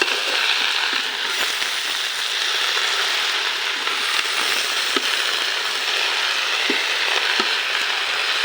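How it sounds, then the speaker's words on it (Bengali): Red amaranth leaves from the field frying with small shrimp, giving a dense, continuous sizzle close up, with occasional sharp ticks and scrapes from stirring scattered through it and no voices. "ক্ষেতের থেকে উঠানো লাল শাকগুলা ইচা মাছ দিয়া আজকে আলহামদুলিল্লাহ ভাজি করতেছি"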